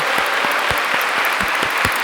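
A crowd at a church elders' retreat worship service claps loudly and continuously, individual hand claps standing out in a steady rhythm against the dense wash of applause.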